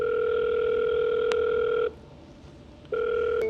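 Ringback tone of an outgoing phone call, a steady loud electronic ring that holds for nearly two seconds, breaks off into a short silence, then starts again.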